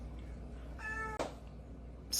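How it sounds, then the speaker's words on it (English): A domestic cat meows at a door, one fairly clear, drawn-out meow at moderate distance followed by a brief thump, set over a low steady room hum with no talk. "My cat decided to scream at the door."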